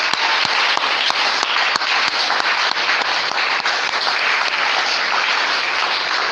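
A church congregation applauding together, a dense, loud wash of clapping that keeps going without a break, with a few sharper individual claps standing out.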